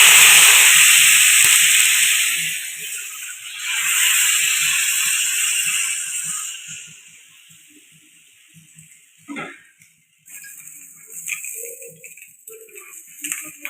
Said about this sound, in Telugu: ఇప్పుడు ప్యాన్ వేడెక్కాక మన దోశల్ని ఈ విధంగా వేసుకోవాలి.